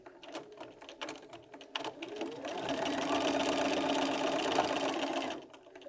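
Sewing machine chain piecing mini charm quilt squares with a quarter-inch seam, a steady fast mechanical whirr running for several seconds after some light handling clicks, then stopping.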